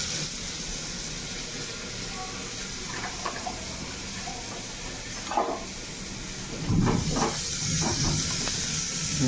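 Onions frying in a pot for a home-cooked curry, a continuous sizzling hiss with scattered crackles and a few louder clatters or stirs toward the end.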